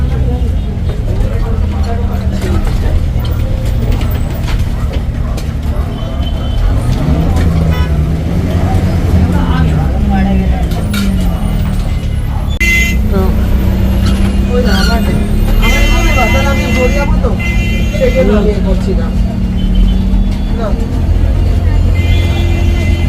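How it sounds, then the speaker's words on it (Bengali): Loud, busy roadside traffic at Nashik Road bus stand in India: engines of cars and buses rumble nearby, horns toot now and then and air brakes hiss, with voices mixed into the crowd noise. "তো এসে গেছি নাসিক রোড বাস স্ট্যান্ডে"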